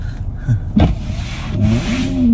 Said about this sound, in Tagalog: pinapainit ko lang yung sasakyan